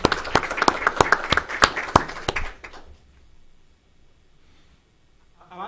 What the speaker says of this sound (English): You can clap on this side too